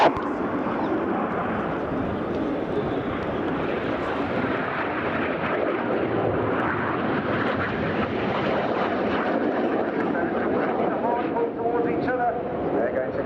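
Red Arrows jets roar past at an air show display at RIAT, a loud, sustained, wideband jet rumble that fills the scene while a commentator talks over it.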